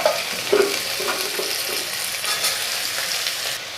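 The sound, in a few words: onions added to hot oil, frying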